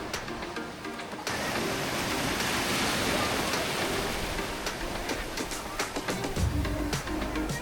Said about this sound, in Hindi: दोस्तों हम समुद्र किनारे एंजॉय करते हुए, और लहरें आ रही हैं, पानी ठंडा ठंडा है।